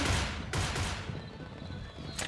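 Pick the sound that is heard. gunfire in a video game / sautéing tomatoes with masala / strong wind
gunfire in a video game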